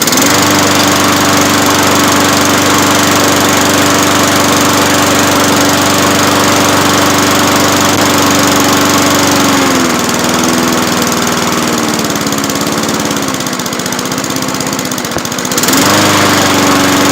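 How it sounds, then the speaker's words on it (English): Lawn mower with a Honda engine running loudly and steadily close by, a constant droning hum with a slight drop in pitch partway through and no talking. "Now all there's left to do is test start the mower."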